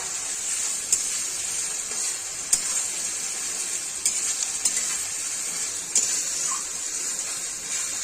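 Four whole bay leaves sizzling in hot oil, a steady bright hiss with faint crackles and occasional sharp pops, close and continuous with no talking.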